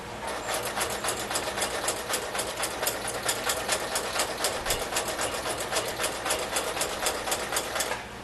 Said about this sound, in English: put it back under the machine and sew over it one time, back and forth, just to make it look good